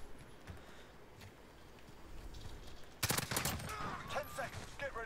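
AK47 gunfire in Modern Warfare comes as a burst of rapid automatic shots, starting sharply midway and staying loud with scattered follow-up shots, after a quieter stretch of distant game noise.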